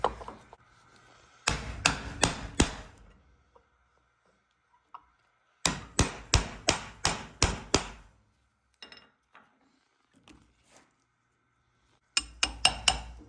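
Light hammer taps on a punch during a brake caliper rebuild on a Chevy Silverado, sharp metallic strikes in quick bursts of four to six, separated by quiet pauses with a few softer isolated knocks.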